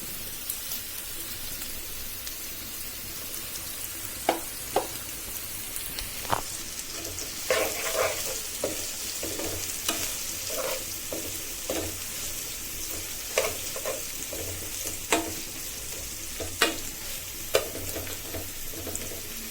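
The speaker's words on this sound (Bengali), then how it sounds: "মাছগুলো কত সুন্দর করে ভাজা হয়েছে দেখুন," Carp sizzles steadily in hot oil, with sharp crackles and pops breaking through the constant hiss at irregular intervals. No one speaks.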